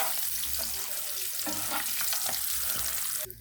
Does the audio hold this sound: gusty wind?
no